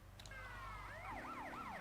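Police car siren in the game GTA Vice City, wailing with rising and falling sweeps over a steady low engine rumble, loud and continuous with no talk.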